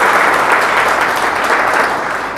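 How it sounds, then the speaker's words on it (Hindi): Sustained audience applause at a memorial programme for revolutionaries Bhagat Singh, Sukhdev and Rajguru, loud and steady throughout with no talk over it. "इनके लिए एक ज़ोरदार ताली बजाएं।"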